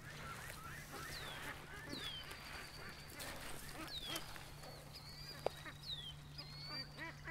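Canada geese honk repeatedly outdoors, several calls spread across the stretch, mid-distance over a steady low hum and soft ground noise.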